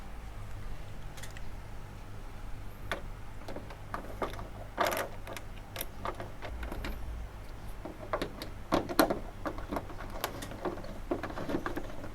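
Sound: screwdriver unscrewing bolts on an air conditioner

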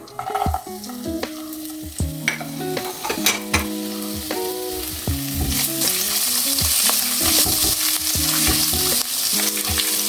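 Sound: frying chopped ginger in coconut oil

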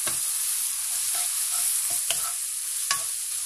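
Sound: stirring spices frying in pan for dal

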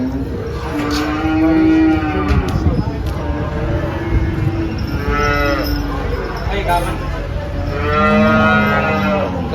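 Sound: cow mooing

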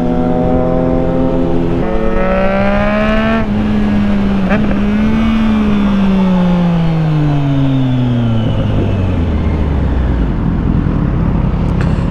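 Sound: Triumph Street Triple RS motorcycle engine revving

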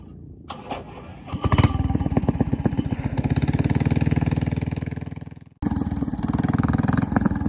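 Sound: motorboat engine running on a lake

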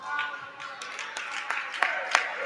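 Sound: coach Pannarale clapping at futsal match

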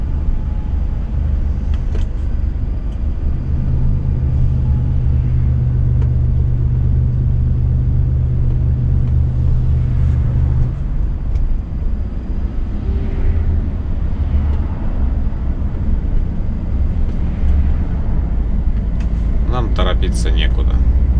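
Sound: car driving slowly in traffic past accident

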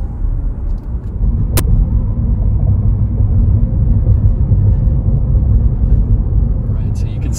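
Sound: Chevrolet Bolt EUV electric car driving uphill

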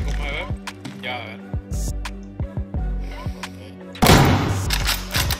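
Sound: AS-85 rifle gunfire in video game Deadside

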